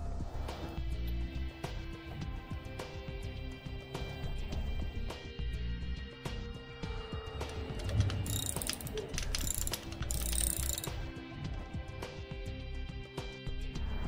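Ratchet wrench clicking steadily while tightening a stock big-block Chevy rocker arm and pushrod assembly, rapid close mechanical clicks repeating throughout with brief pauses, no talking.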